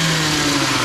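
A moped engine with a prototype vertical reed valve revs loud and steady, a dense continuous buzzing drone up close with no pauses.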